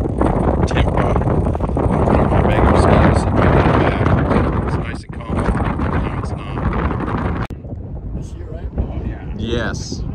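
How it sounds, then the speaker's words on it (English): Strong gusting wind buffets an open microphone at an outdoor model rocket club launch. The roar is loud and continuous, eases briefly, then dips toward the end. "No sound on this video, all wind."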